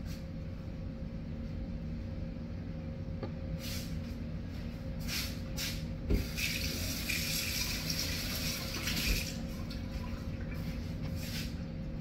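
Brine for homemade banana pepper rings poured into jars, a soft splashing pour that rises in a few bursts over a quiet kitchen hum, faint and close.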